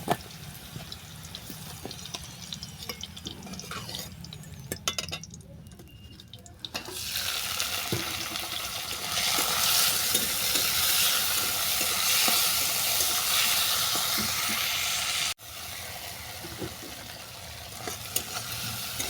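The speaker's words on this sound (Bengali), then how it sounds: "এই তেলের মধ্যে চিংড়ি মাছটাকে ভেজে নেব" Oil sizzles loudly and continuously as prawns fry, after a quieter stretch of faint clinks and stirring; a sharp break near the end briefly lowers the sizzle.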